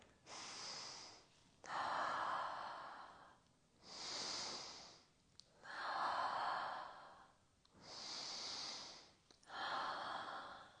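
Deep, slow breaths during a neck and shoulder stretching routine, alternating long inhales and exhales, close and soft, repeating about every two seconds with no talking.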